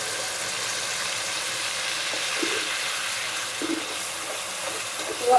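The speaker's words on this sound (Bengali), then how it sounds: "একটু পানি দিয়ে মশলাটাকে প্রথমে কষাই নিব" Ground spice paste of chili, turmeric and other powders hisses and sizzles steadily in a hot pan as a little water goes in, a continuous close frying sound with faint stirring and no talk.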